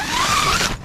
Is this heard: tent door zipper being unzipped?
yes